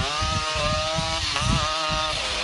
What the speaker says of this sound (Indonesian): Suaranya aja ngeri nih Vespanya